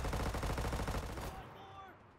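A PPD submachine gun fires a fast, continuous automatic burst in the shooter game Enlisted, loud and close, then cuts off into a quieter tail of game sounds.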